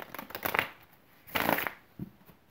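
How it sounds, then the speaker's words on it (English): Playing cards shuffled by hand, two or three quick riffling bursts up close with short pauses between, no talking. "as I'm shuffling and thinking, I hope it's not too loud"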